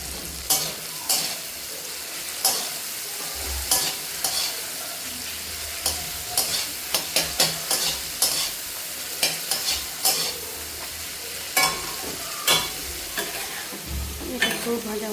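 Tomato, carrot and chopped ginger stir-fried in a pan: continuous sizzling broken by frequent sharp spatula scrapes and taps, some in quick bursts, close up with no voices.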